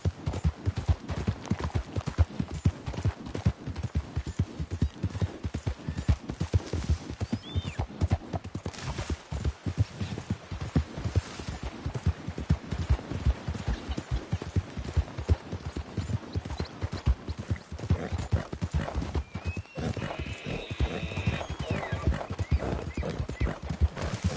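Horse hooves trotting in the video game Red Dead Redemption 2, a steady clip-clop rhythm running throughout, close and loud, with occasional whinnies and snorts mixed in.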